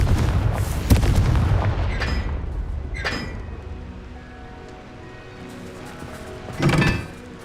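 Fiery Confringo spell blasts in the video game Hogwarts Legacy, a few loud booming impacts with rumbling tails spaced over several seconds, close and heavy with no voices.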